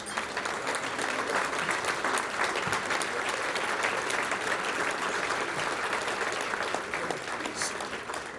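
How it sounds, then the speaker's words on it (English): Sustained applause from a banquet audience honoring the 2018 Cleveland International Hall of Fame inductees, dense steady clapping at full volume for the whole stretch with a few faint voices mixed in. "Let's have a round of applause for the 2018 class."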